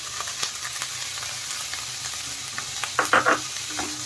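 Finely chopped carrot, capsicum and sweet corn stir-fry on a high flame for sweet corn momo filling, with a loud, close sizzle and a quick run of spatula scrapes and clatters near the end, no voices.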